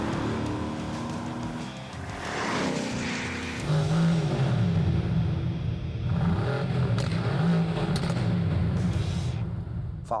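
A V8-engined car revs hard nearby, its deep burbling exhaust rising and falling through several throttle blips over a continuous loud rumble.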